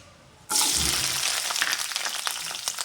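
Chopped small onions (shallots) hit hot coconut oil in a pan for Kerala sambar, bursting into a loud, sudden sizzle that stays steady and crackling to the end, with no talk.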